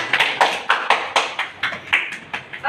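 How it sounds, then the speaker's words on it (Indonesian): A classroom of students gives a short round of applause, a run of sharp, evenly spaced claps close by with no talking. "Beri tepuk tangan untuk kalian semua"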